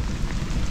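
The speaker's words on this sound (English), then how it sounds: "we had packed our rain gear and were prepared for the downpour that came next" Heavy rain pours down in a Florida Atlantic coast downpour after thunder, a steady dense hiss of drops with no pauses and no voices.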